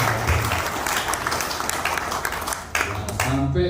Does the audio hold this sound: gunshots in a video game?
no